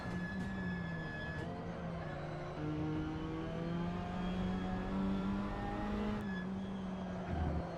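A race car engine in a racing video game drones steadily at low volume, its pitch rising and falling gently through shifts, with faint background hiss and no clear speech over it.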